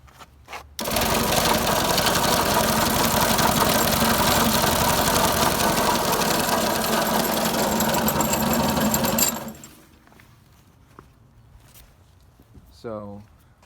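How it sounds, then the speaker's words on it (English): Electric motor of a Craftsman ES100CR 42-inch electric lawn sweeper, battery powered, running with a steady loud buzzing drone for about eight seconds before cutting off abruptly, followed by someone talking. "There's a motor here, and it connects to your battery."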